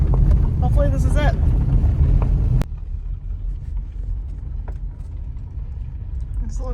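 A car driving in toward a lake trailhead, heard as a steady low engine and road rumble from inside the cabin, louder at first and then quieter, with people talking over it.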